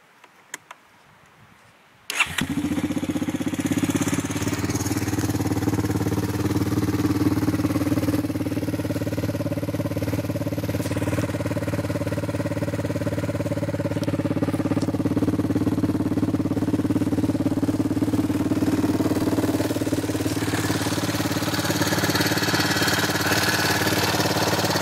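A Honda 250 EX ATV with a heavily jetted carburetor fires up after about two seconds of quiet, then settles into a loud, steady, close idle that runs alone and unbroken to the end.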